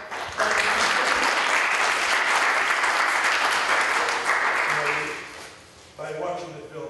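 A festival audience at a Boston Film Festival 2013 screening Q&A breaks into loud, sustained clapping that starts abruptly, holds strongly for several seconds, then fades, and a voice begins speaking near the end.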